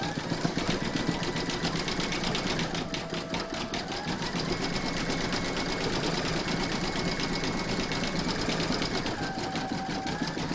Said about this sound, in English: pop that back into your machine and stitch round number 5, and that's going to zigzag the raw edges of the holly leaves